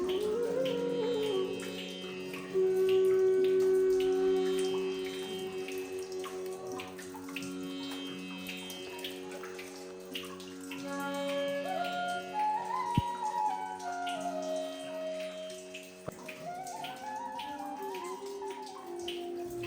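Spring water at a hill temple shrine trickles and seeps steadily, a close, continuous watery wash with faint drips and no one speaking.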